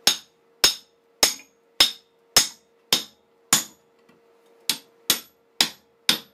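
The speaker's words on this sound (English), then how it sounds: "I'm just going to drop it on the concrete floor a couple times" Axe head fitted on its handle dropped repeatedly onto a concrete floor, giving eleven sharp, ringing knocks at an even rhythm with a short gap midway, close and loud with no talk.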